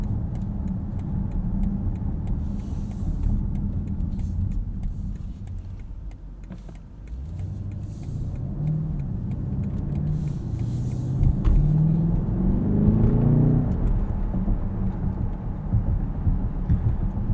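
A 2020 Alpina B7 xDrive engine rumbles and builds as the car accelerates with no turbo lag, the pitch climbing and loudness swelling toward the end, with no voices.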